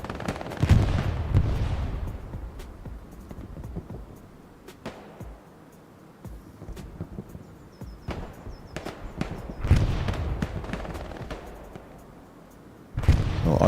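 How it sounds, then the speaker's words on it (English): Artillery and gunfire in the World War II shooter Hell Let Loose on the Hürtgen map: repeated heavy booms and rattling shots, some close and loud, others distant, with quieter gaps between bursts. "So artillery is zeroed in on the compound on Siegfried."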